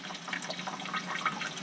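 Water from a tap runs into a kitchen sink garbage disposal packed with peanuts, a steady close splashing and gurgling stream at moderate volume with no talk.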